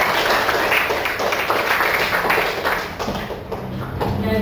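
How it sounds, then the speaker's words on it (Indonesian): Students in a Hindu religion classroom lesson applaud together, a dense, steady patter of hand clapping that fills the whole stretch and eases slightly toward the end. "Beri tepuk tangan untuk"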